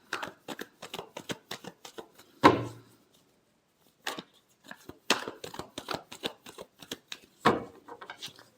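Tarot cards being shuffled by hand, close and crisp, with rapid riffling bursts and a few louder slaps as the deck is squared, short pauses between runs and no voice.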